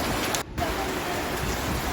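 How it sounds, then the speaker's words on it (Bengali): Steady rain falls in a continuous broadband hiss after a hot, sunny spell, with a brief dip in the middle before the downpour resumes evenly, with no voices. "রক্ষা বাবা, বৃষ্টিটা পড়েছে।"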